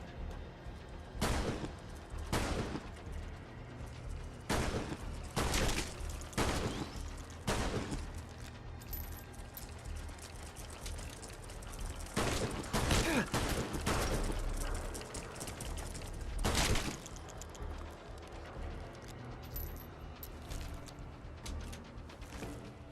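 Gunfire from a gun in the video game Fallout London: loud, sharp single shots spaced a second or two apart, sometimes in quick clusters, over a steady background hum with no speech.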